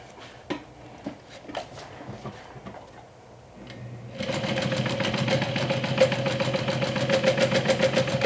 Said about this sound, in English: we're going to stitch this down with 1/4 of an inch